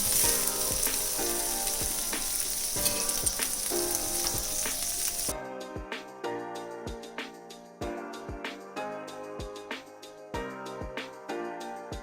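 Eggs frying in a hot pan for pineapple fried rice, a loud steady sizzle that drops off halfway, leaving sharp scraping and tapping of a utensil against the pan.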